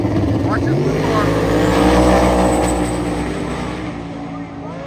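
An Audi S3 8Y at a drag race launches hard, its engine rising in a loud, close, climbing drone that peaks midway and then fades slightly as it pulls away, with a voice audible over it.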